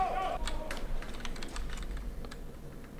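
Computer keyboard typing while searching for fencing bout footage, a quiet, steady run of clicking keystrokes close by with a faint voice at the very start.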